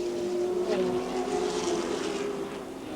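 Touring cars racing at Adelaide International Raceway in 1984: a loud, sustained engine drone with a steady pitched whine that swells and slowly fades as the cars pass, no talk heard.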